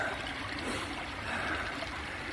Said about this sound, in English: the creek's actually running pretty damn good